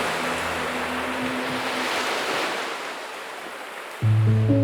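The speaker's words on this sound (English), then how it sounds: "the incoming tide spreads in broad, shallow waves across honey-coloured sand" Broad, shallow surf washes in with a soft, steady hiss, while gentle music fades out early and returns near the end.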